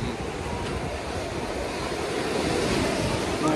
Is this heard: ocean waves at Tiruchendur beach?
yes